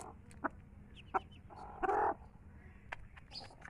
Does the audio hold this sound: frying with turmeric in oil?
no